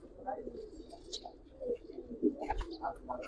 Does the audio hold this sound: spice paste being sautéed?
no